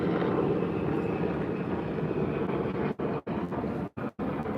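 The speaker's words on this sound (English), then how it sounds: "I got a helicopter going on" A helicopter passes overhead as a broad, steady rotor and engine rumble, fairly loud and continuous, with a few short dropouts near the end.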